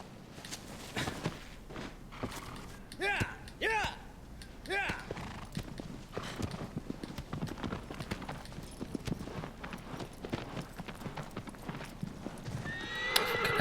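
A horse in the video game Shadow of the Colossus clip-clops along at a walk, whinnying loudly several times near the start, with hooves continuing in a steady rhythm throughout.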